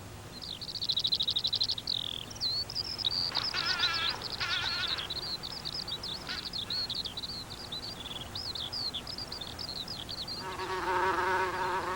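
Bumblebees buzz around sand dunes, their high droning buzz weaving in and out steadily and fairly close throughout, with a louder burst near the end.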